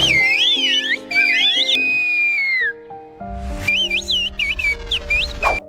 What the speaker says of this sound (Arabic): في ناس بتتكلم بطريقة غريبة جدا بالصفير